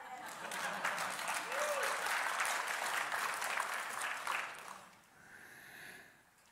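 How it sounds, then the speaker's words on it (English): Congregation applauding during a church sermon, a broad steady clapping that holds for about four seconds, then thins and fades out, leaving quieter room sound at the end. "I think you should clap for that one."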